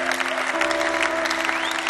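Audience applause at a live gospel concert, a steady wash of clapping that holds at an even level for the whole short stretch, with a sustained tone running beneath it.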